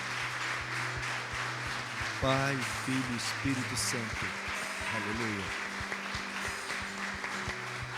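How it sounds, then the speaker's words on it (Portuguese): A church congregation claps steadily in praise, the applause running beneath a voice that speaks and calls out over it, fairly soft overall with a constant patter throughout. "Você pode aplaudir o Pai, o Filho e o Espírito Santo?"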